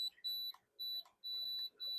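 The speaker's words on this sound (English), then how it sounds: "the beeping is the auto off" Space heater beeping for its auto shut-off, a series of four or five faint, high electronic beeps in quick succession.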